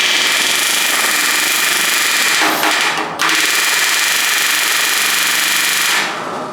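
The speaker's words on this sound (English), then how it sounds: "I don't even feel the rivet gun on that rivet" Pneumatic rivet gun hammering a rivet on an RV-10 aircraft firewall, a loud continuous rapid rattle close up, with two brief breaks in the middle before it tapers off at the end.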